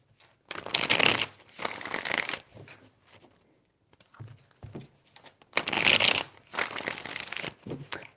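Tarot cards shuffled in two bursts of close, crisp riffling and flapping, each lasting about two seconds, with softer card handling and brief quiet gaps between them.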